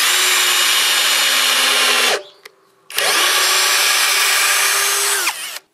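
A Parkside Performance 12V drill driver on speed 2 driving an 8 cm screw into 8 mm wood in two loud, close whirring bursts, each ending with a drop in pitch as the screw seats, with a short pause between.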